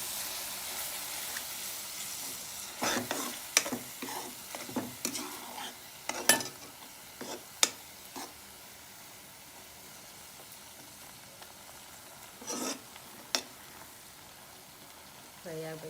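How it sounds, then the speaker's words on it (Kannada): Onions with garlic-ginger paste frying in a pan for paneer butter masala, stirred with a spoon that scrapes and clinks in irregular bursts over a low sizzle, with a voice talking at times. "ಫ್ರೈ ಆಗಬೇಕು ಚೆನ್ನಾಗಿ."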